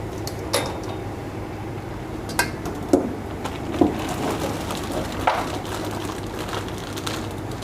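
French fries tipped into a pan of hot oil over a gas flame, with a steady low sizzle of frying throughout and scattered sharp clinks and scrapes of metal utensils against the pan.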